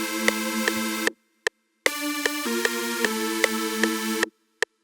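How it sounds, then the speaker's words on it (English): A Serum synth double lead plays a simple sustained pattern of bright, buzzy held notes that step in pitch, punctuated by short clicks, with a brief gap midway and a clean stop near the end. "this first sound that I started with is a synth. So I got the synth from Serum."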